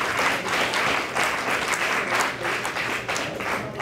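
Sustained crowd applause at a civil engineering challenge event, a dense, even wash of many hands clapping that carries on without pause.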